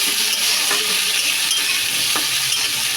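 Potatoes and Malabar spinach stalks stirred in plenty of hot oil while fish fries alongside, a loud dense sizzle with a few soft scraping strokes.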